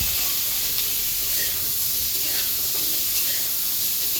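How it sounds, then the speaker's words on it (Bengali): Vegetables fry in a pan on a gas stove with a steady, loud, even sizzle and hiss that holds without a break. "সবজিগুলো এখন ভাজা হতে থাক"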